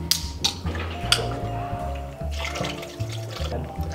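Water runs and splashes while a blender jar is rinsed out at a sink, a steady wash of flow broken by a few sharp clinks and bursts, with low background hum throughout.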